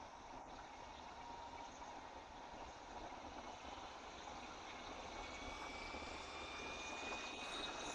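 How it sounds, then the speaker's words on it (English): A Yarbo yard robot whirs with a steady, high-pitched, jet-like roar that holds constant throughout, a faint rising whine near the end, no talking. "This thing sounds like a jet engine, doesn't it?"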